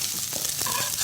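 Meat jeon, thin slices of beef fried in oil in a pan for a Korean holiday meal, sizzles and crackles steadily and close, with no talk over it.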